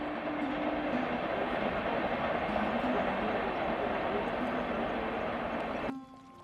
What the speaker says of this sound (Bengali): ওই দেখুন, দুপাশ দিয়ে দুটো ট্রেন পরস্পরকে অতিক্রম করে কেমন চলে গেল।